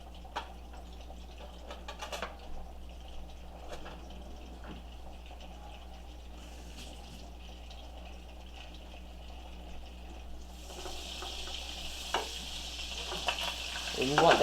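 A tablespoon of butter melting in oil in a pan, cooking shrimp and mushroom spicy pasta: a faint, low sizzle with scattered clinks and taps, growing into a louder, brighter hiss near the end.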